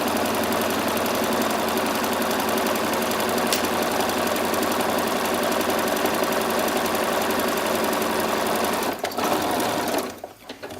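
A sewing machine stitches the side seam of a dress in one long unbroken run, a loud rapid steady whir and needle clatter that slows and stops just before the end.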